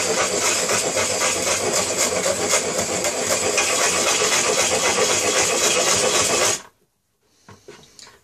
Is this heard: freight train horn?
no